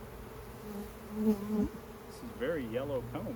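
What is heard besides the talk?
honey bees buzzing during a hive inspection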